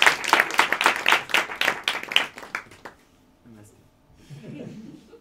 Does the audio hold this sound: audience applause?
yes